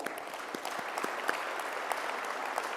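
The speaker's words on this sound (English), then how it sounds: "A huge round of applause for all our finalists." Audience applause for the three World Car of the Year finalists at an awards presentation, a steady dense wash of many hands clapping throughout, moderately distant in a large hall.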